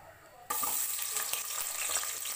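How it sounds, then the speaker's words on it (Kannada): Onion frying in hot oil in a pressure cooker, a loud, dense sizzle that bursts in suddenly after a quiet moment and stays steady throughout, with faint stirring underneath and no talking. "ಈರುಳ್ಳಿ ಸ್ವಲ್ಪ ಚೆನ್ನಾಗಿ ಫ್ರೈ ಆಗಬೇಕು"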